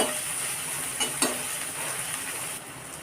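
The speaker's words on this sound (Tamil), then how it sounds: "நல்லா வதக்கிடணுங்க நல்லா சிறப்பாக நல்லா வதக்கினா தான் அது டேஸ்ட்டு கிடைக்கும்" Onions and green chillies sauté in a hot pan with a constant sizzle, while a spatula scrapes and clacks a couple of times before the frying noise eases slightly.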